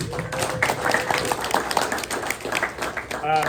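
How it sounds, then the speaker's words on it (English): Audience applause at a press luncheon honouring sponsors: loose, patchy clapping close by, mixed with crowd voices and chatter throughout. "Let's give them a round of applause."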